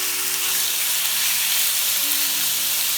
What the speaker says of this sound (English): Sizzle away, baby. Sizzle away.